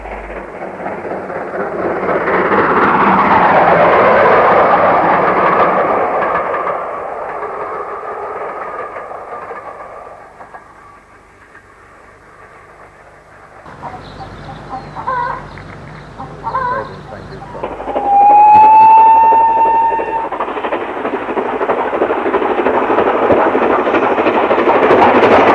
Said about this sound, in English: At Colourized station, both up and down trains pass without stopping, for the station was closed in 1953.